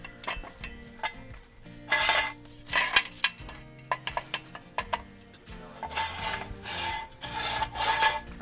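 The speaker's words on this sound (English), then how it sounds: "Want me to jack it up?" A jack works under a Toyota Tacoma axle during a suspension install, giving close rasping ratchet strokes in bursts with metallic clicks between them and no talk.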